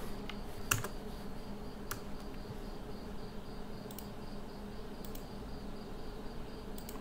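Faint, sparse clicks of a computer keyboard pressing Alt+Enter while coding in Android Studio, a few isolated keystrokes over a quiet room hum.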